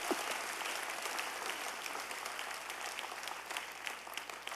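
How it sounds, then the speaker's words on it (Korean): A church congregation at a Sunday service breaks into applause, a steady wash of many hands clapping, fairly distant and moderately quiet, with no voices standing out over it. "서로 격려 한번 해서 박수 한번 해야 돼"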